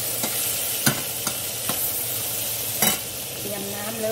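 Curry paste dry-roasting in a pan for a Thai pork belly and pineapple curry, a constant sizzle broken by a few sharp utensil scrapes, with a faint voice near the end.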